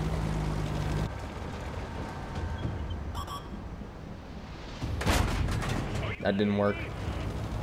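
Tank cannon fire in World of Tanks: booming shots and rumbling engine noise, with a heavy blast near the middle and metallic impacts, while someone talks briefly over it.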